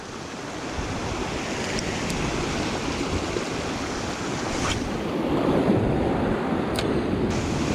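High ocean water surges and washes over rocks along the shore, a loud, continuous roar of surf mixed with gusty wind buffeting the microphone, steady throughout with no talk.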